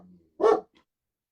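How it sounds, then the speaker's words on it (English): A dog gives a single loud, close bark at someone arriving at the front door, followed by quiet and the start of another sound at the end. "so that's why Lena's barking"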